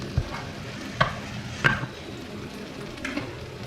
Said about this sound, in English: make sure you keep stirring in between to check that the okra doesn't get stuck to the bottom of the pan